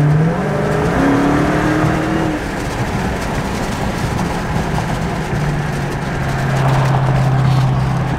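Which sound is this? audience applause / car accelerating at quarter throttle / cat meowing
car accelerating at quarter throttle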